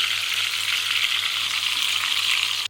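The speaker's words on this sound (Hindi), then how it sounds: "और 2 मिनट एक साइड से हमने हाई फ्लेम पर इसको फ्राई करना है।" Steady, bright sizzling of tandoori-marinated chicken pieces frying in hot oil over a high flame, a constant close crackle that cuts off abruptly at the end.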